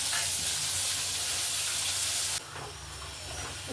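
Two chopped tomatoes sizzle and hiss steadily in hot oil in a home kitchen pan, a dense close frying noise that drops to a quieter simmer partway through.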